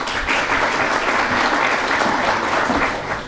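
Sustained audience applause at a peace declaration event, a dense, steady wash of clapping that holds at full strength throughout before easing slightly at the very end.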